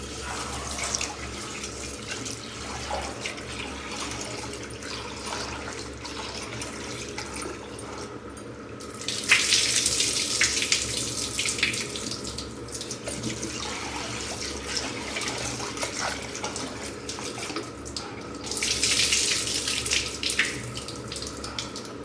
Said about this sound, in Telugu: స్టోర్ బియ్యం అయితే చాలా బాగుంటుంది ఫ్రెండ్స్ ఇప్పుడు మనం దీన్ని నీట్గా టూ టైమ్స్ వాష్ చేసుకుందాం